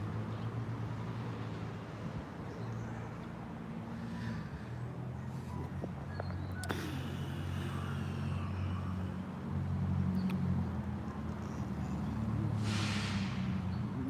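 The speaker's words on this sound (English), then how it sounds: "that garbage truck sounds synced up with this car." A garbage truck and a car roll past together, giving a low, steady engine rumble that swells slightly toward the end and stays moderately distant, with no voices.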